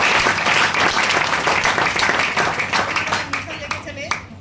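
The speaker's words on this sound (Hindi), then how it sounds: "आज हमारे 20वें गुरु प्रोफेसर सर के लिए जोरदार ताली" Loud, dense applause from a meeting audience honouring a professor on Guru Purnima, sustained clapping that thins toward the end while voices talk over it.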